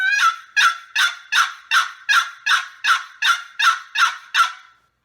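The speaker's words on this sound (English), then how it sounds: "So that's yelping on a box call." Eleven sharp turkey yelps scraped out on a wooden box call, loud and close, in an even rhythmic series that stops cleanly, with no voices.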